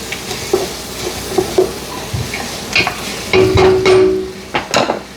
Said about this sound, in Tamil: இப்போ எங்கே சூப்பராக வதங்கி கொண்டு இருக்குது.